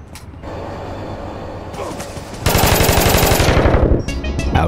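Rapid automatic gunfire in APB Reloaded, a loud, dense burst of rattling shots growing more intense midway and then breaking into a few separate shots, with vehicle engine noise underneath.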